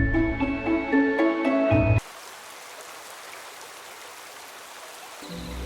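Steady rain falls in a Hindi cartoon about a monkey and birds, an even hiss of drops lasting a few seconds between stretches of tonal music, with no voices.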